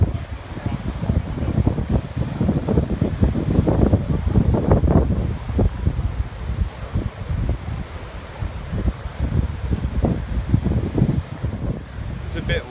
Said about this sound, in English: It's a bit windy, but definitely a nice day today.